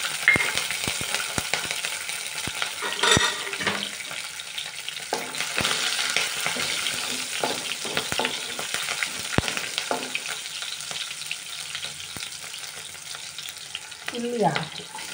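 Cumin, mustard seeds and green chillies frying in a pan with a steady close sizzle, punctuated by sharp spoon clicks and stirring scrapes, with no voices.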